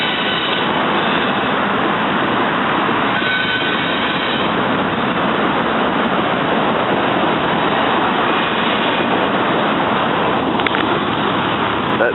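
A sprinkler system sprays water across an urban camping spot, a steady loud hiss with no pauses that holds for the whole stretch, close by and with no voices.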